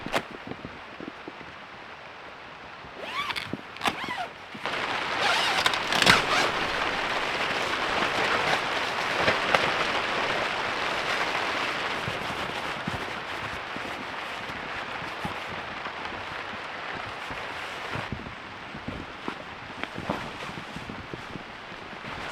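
Heavy rain hammers on a tent during solo camping with a dog, making a dense, steady patter that swells and stays loud, with occasional sharper taps and rustles close by.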